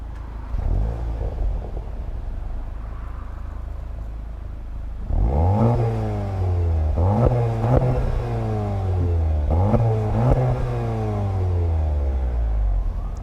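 A 2022 Volkswagen GLI's turbocharged engine revs repeatedly through its new sport exhaust, several rising blips with a steady idle rumble between them, loud and close with no talking.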